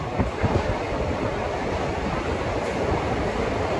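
The Pamani Express between Tirupati and Tiruvannamalai runs at speed, a steady, dense rumble and rushing noise heard from inside the moving train, continuous and fairly loud with no voices.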